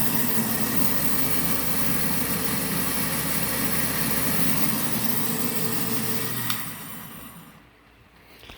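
A shop lift system's winch motor hums and whines steadily while lowering a load, then cuts off, leaving a quieter room.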